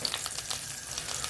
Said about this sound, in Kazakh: біз сары маймен осылай ертіп алдық